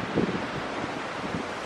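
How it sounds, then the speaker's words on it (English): Strong, gusting wind roars steadily across the microphone during a snowstorm in West Virginia, a loud and constant rush with brief heavier buffets. "I've never heard wind like that."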